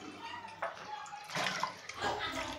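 Vegetables being rinsed under running water in a home kitchen, a steady splashing wash with a few louder gushes and brief clatters, fairly close.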